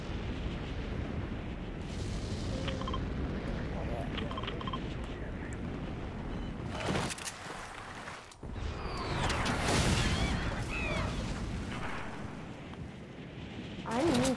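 Grenade launcher blasts in the video game Fortnite sound as several muffled booms and crackling bursts over a noisy, rumbling game mix, with one sharp crack near the end.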